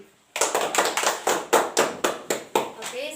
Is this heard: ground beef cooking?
no